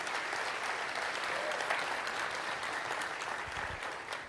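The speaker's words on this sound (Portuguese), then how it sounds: "Vamos dar uma salva de palmas ao Senhor Jesus" A church congregation gives a round of applause to Jesus, a sustained, dense clapping that rolls on evenly and thins slightly toward the end.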